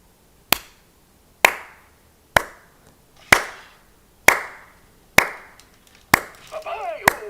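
Single sharp hand claps at a slow, steady pace, about one per second, each ringing out briefly in a reverberant space, with a voice entering near the end.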